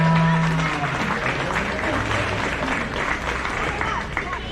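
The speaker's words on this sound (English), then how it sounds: "If you would give all five of those exhibitors a nice round of applause." An audience at a county fair 4-H and FFA beef show claps for the Angus class exhibitors, a steady round of applause that fades slightly, with crowd murmur and a brief tone at the start.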